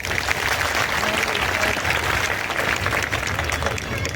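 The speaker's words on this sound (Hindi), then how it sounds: "एक बार रमेश जी की ताली बजाओ जोर से।" A crowd at a political gathering applauds continuously, steady dense clapping throughout at a constant loud level.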